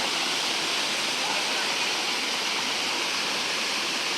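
Kodayar twin waterfalls in Kanyakumari pour in a steady, loud, broadband roar of falling water, close and continuous with no pauses.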